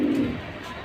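Low, throaty cooing from pigeons of a pair offered for sale, one soft rolling coo in the first third of a second that fades into a steady room background with no talking.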